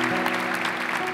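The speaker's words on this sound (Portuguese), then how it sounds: "A gente quer acolher você com uma salva de palmas" A crowd at a Catholic gathering led by Frei Gilson claps steadily to welcome people from Brazil's northern region. The applause is dense and fairly loud, with a humming tone running underneath.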